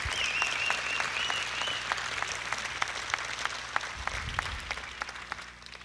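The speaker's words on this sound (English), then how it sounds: "Let's give Don a round of applause." An audience at a workplace welcome gathering applauds warmly for an employee of almost 40 years. Dense, steady clapping fills the room, with a whistle early on, before the applause thins out toward the end.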